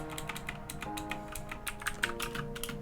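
Rapid typing on a computer keyboard, a dense run of close, crisp key clicks with no talking.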